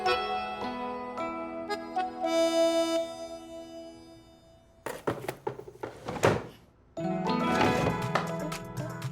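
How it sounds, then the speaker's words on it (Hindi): A wooden cupboard door thunks and creaks open amid scattered knocks and rattles, following a stretch of music, fairly close and loud. "ये तो मेरे कबर्ड खुलने की आवाज है।"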